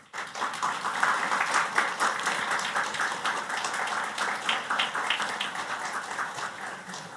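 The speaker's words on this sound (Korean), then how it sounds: "나오실 때 큰 박수로 맞이하겠습니다." Congregation applause at a Sunday church worship service welcoming a guest professor to the pulpit: steady, dense clapping from a sizable crowd that holds for about seven seconds before thinning slightly.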